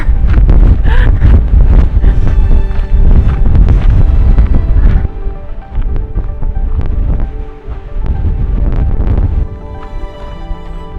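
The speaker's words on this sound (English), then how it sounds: "So much wind." Strong, gusty wind roars into the microphone on an Arizona hiking trail, loud and continuous with buffeting swells that ease briefly midway before rising again.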